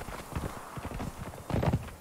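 Rhythmic hoofbeats of a horse trotting in the video game Conan Exiles, steady and close, with the clatter growing slightly louder toward the end.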